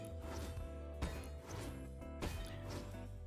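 Two or three swings of the Regal Floof harvesting tool in Fortnite, each a sharp hit with a bright, ringing, layered tail, spaced about a second apart over busy game audio.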